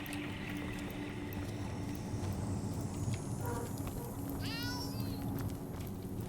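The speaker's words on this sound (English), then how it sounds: "Nope, that is just a cat." A cat in a video game meows briefly a few times over a steady low ambient hum, with a faint voice in the background.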